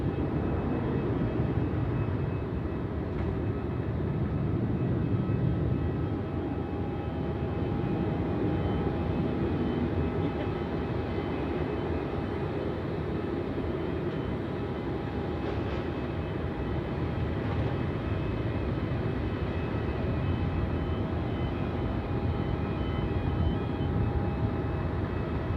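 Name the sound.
Singapore Airlines plane departing runway 27 at night, Melbourne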